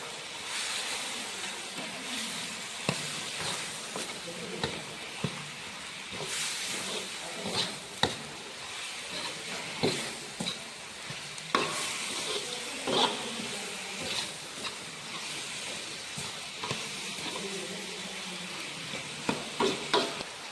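Pallipalayam chicken with ginger-garlic paste and salt is stirred in a hot pan, a soft continuous sizzle broken by repeated scraping and clinking strokes of the spoon at an uneven rhythm.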